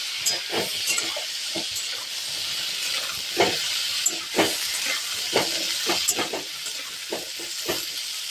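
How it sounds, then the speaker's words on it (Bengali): Cauliflower with a little salt frying over medium heat in a pan: a steady, close sizzle punctuated by repeated sharp spatula strokes as the pieces are turned. "তাই আমি মাঝারি আঁচে এগুলোকে ভালো করে লাল লাল করে একটু নেড়ে চেড়ে ভেজে নেব।"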